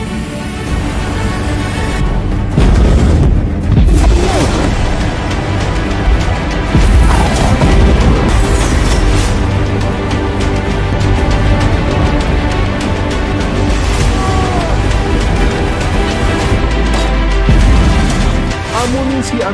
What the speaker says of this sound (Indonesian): satu sama lain melancarkan serangan di antara rumah penduduk